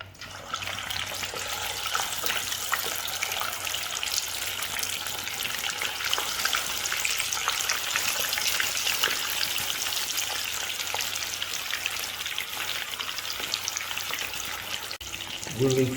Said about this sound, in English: We will add some fenugreek seeds into it to give it a good taste. And now we will add our fish.